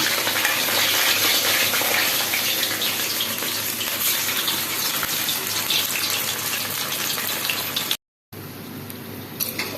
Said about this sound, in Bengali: এভাবে সব লেচিগুলো আমি তেলে দিয়ে ভেজে নেব